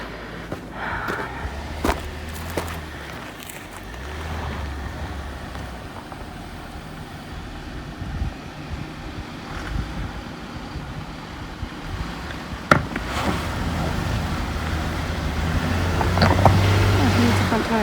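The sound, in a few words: 6x6 vehicle launching through mud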